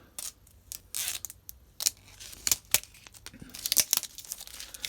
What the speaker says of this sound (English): I'll just peel the rest of that off.